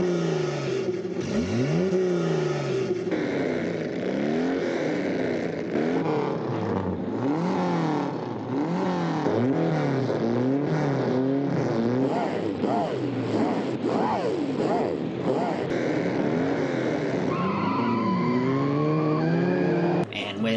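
Race cars revving hard and tires squealing at the start of a cross-country race from the Herbie film, a dense continuous roar of engines with rising and falling revs and skids, loud throughout and mixed with film voices.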